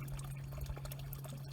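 Retained pond water pours steadily back into a garden pond during winterizing, a soft continuous liquid wash with a low hum underneath, fairly quiet and unbroken throughout.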